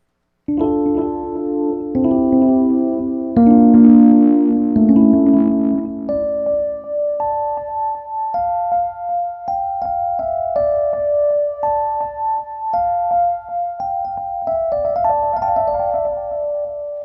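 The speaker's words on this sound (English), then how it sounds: "this electric piano through this delay sounds like this" Electric piano through a delay effect in Guitar Rig, playing chords and a slow melody with echoing repeats trailing each note, played alone and fairly loud.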